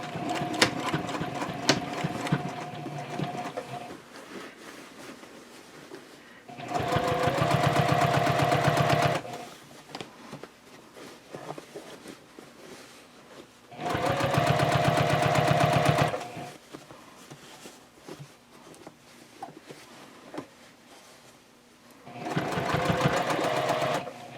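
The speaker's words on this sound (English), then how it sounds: "now I can start sewing" A sewing machine stitches a tote bag in three loud, close bursts of rapid whirring mechanical runs, with quieter handling noises and pauses between them.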